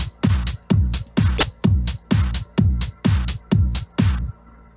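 An EDM drum pattern programmed in FL Studio, built from bass drums, cymbals and claps, repeats as eight evenly spaced loud hits in a steady four-on-the-floor pulse, then stops.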